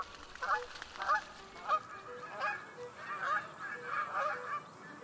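Several migrating geese honk in repeated nasal calls, moderately close, overlapping in loose bursts against a quiet outdoor background.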